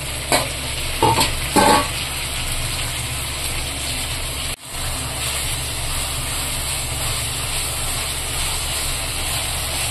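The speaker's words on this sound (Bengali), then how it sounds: "ভালো করে কষিয়ে নিচ্ছে প্রথমে।" Onions and tomatoes, softened with a pinch of salt, are sautéed and stirred in a pan for a fish-head mung dal, giving a steady close sizzle with a few scraping stir strokes near the start and a brief dropout midway.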